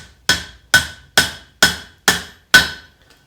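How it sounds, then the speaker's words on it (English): Six sharp, ringing hammer blows strike a hot tent stake on the horn of an anvil. They come in a steady, evenly spaced rhythm, loud and close, each with a short metallic ring that decays quickly. "I'm going to go to the smallest portion of my anvil here, and now I want to hit on this bottom side."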